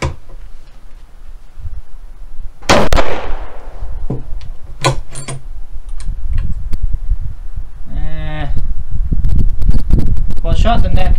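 Rifle firing a .43 Mauser cartridge case formed from .300 Win Mag brass: one sharp, loud outdoor gunshot followed by clattering handling noises and a person talking.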